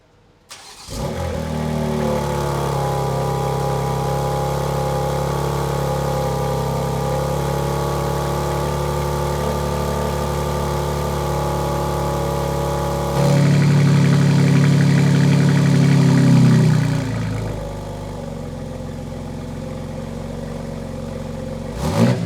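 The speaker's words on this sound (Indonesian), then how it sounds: "ini knalpotnya 4 buah. Wow, knalpotnya ini asli semua, tidak ada fake exhaust di belakang" A 2022 BMW X3 M Competition with quad exhaust runs at a loud, steady idle, then revs up for a few seconds before settling back to idle, heard close.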